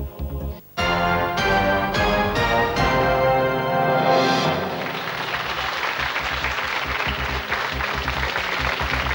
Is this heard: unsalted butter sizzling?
no